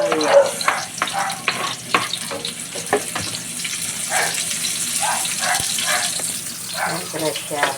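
Onion frying in a hot pan with garlic, a steady sizzle broken by scraping and stirring clatter, with occasional talk over it in a warm home kitchen.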